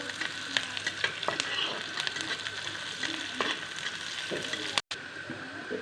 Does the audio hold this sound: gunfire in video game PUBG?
no